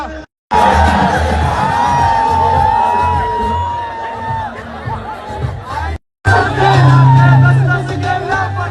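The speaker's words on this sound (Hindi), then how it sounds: "इस घटना के बाद वहां मौजूद भीड़ ने जमकर शोर मचाया" Crowd at a Masoom Sharma live show in Haryana, loud shouting and cheering from many voices with whoops and yells, briefly cutting out twice before the din resumes.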